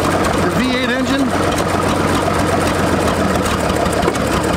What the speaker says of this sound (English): On this one, we've got one diesel engine, runs the water